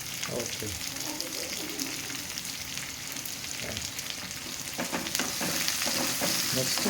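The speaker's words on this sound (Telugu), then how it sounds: "వేసుకున్నాక ఇక పచ్చిమిరపకాయలు అండి పొడుగుగా జీవి వేసుకోవాలి." Green chillies slit lengthwise frying in a salted pan, a steady close sizzle with intermittent stirring scrapes and crackles that grow slightly busier toward the end.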